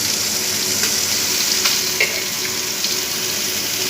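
Chicken fries in a pan with a loud, steady crackling sizzle close up, a constant hiss with a few soft pops and knocks from stirring.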